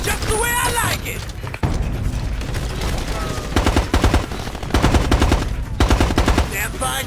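Gunfire in Ghost Recon Advanced Warfighter, with loud bursts of machine-gun fire in rapid rhythmic volleys and scattered booms during a firefight, mixed with shouted voices.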